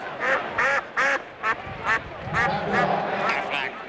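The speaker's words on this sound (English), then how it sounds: "Cue the duck." Aflac duck quacking during a televised college football broadcast of Pittsburgh versus Miami, a string of about eight loud nasal quacks in quick rhythm, the last few overlapping crowd or broadcast noise.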